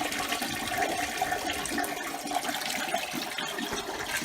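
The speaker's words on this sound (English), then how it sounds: "Okay, so we flush it one more time just to make sure it's everything okay." A toilet is flushed after its stuck part was repaired, giving a loud, close, continuous rush and swirl of draining water with no talking.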